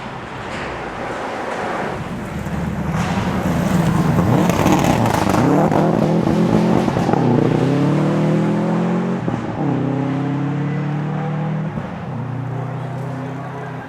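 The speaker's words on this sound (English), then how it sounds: "No, it's Travis, I can hear the engine already." A rally car's loud engine roars and swells as it approaches and passes on a race stage, its pitch sweeping up through the gears, over heavy wind rumble and a faint voice.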